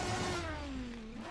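A race car engine in Assetto Corsa, a heavy GT pack mod car, hums and winds down in pitch across a short stretch, faint and steady with no talk.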